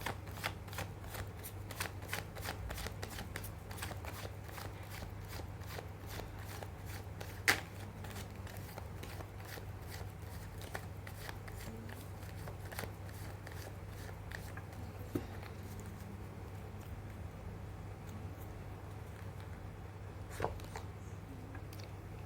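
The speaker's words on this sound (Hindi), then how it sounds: "मैं कर लेती हूँ कार्ड की शफलिंग" Tarot cards being shuffled by hand during a Hindi tarot reading, a steady stream of quick papery riffles and flicks with a few sharper snaps, close and fairly quiet over a constant low background hum.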